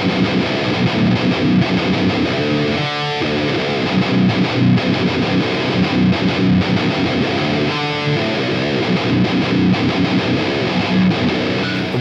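Heavily distorted electric guitar played through a Hotone Ampero Mini modeler, a dense, continuous driven tone with steady chugging and a couple of brighter sustained chord swells, loud and alone with no talk.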